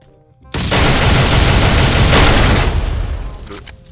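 A deep, booming blast from the survival video game Last Island Survival erupts suddenly and loudly, then rumbles on with a crackling tail for several seconds before slowly easing. No one speaks over it.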